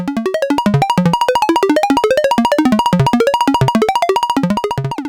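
A Make Noise 0-Coast synthesizer plays a plucky drone patch in its lower register: a loud, steady stream of fast, bright plucked notes at randomly jumping bass pitches, with no talking.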